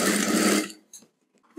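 A sewing machine stitches a blouse collar, giving a short rapid whirring run that stops abruptly after about half a second, followed by a few faint clicks.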